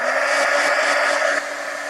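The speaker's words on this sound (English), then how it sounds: "I'm going to grab my heat gun, and I am going to hurry this along" A heat gun drying a crackle layer of Elmer's glue, with a steady loud whirring blow of air that holds constant, then drops slightly in level near the end.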